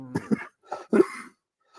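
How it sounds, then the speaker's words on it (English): A man coughs over his coffee in a few short, rough bursts close to the microphone, with brief pauses between them. "He coughed all over his coffee."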